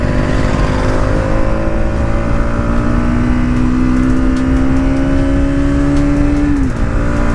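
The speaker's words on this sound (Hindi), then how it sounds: "थर्ड गियर में फोर्थ गियर में मस्त उठा रही है यार ये बाइक" A Bajaj Pulsar NS 200 motorcycle pulls hard through third and fourth gear, its loud engine note climbing steadily under heavy wind rush before easing off near the end.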